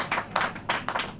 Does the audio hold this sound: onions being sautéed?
no